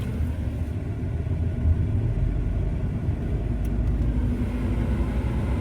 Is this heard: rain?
no